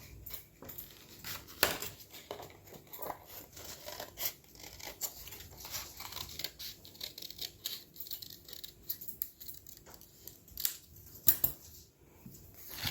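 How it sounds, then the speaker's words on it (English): Quiet, irregular snips and crisp rustles as scissors cut through paper, with small clicks and faint handling noises. "Now I'm just going to go and cut it off. And I'm just gonna use my scissors."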